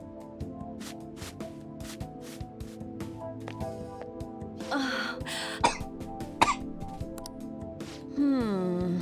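A Persona 5 Royal character coughs from the dust in a dirty room, giving a few short, sharp coughs over steady background game music.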